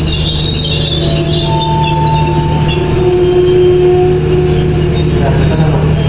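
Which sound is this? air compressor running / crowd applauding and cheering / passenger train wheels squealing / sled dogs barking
passenger train wheels squealing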